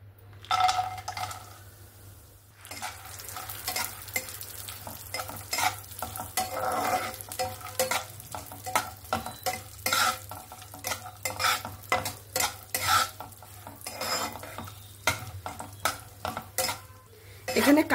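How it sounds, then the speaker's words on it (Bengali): Cashews and almonds frying in hot ghee in a pan, a steady close sizzle with repeated stirring scrapes and clinks of a spoon against the pot, a low hum underneath throughout. "আমি প্রথমে বাদামগুলোকে একটু ভেজে নেব।"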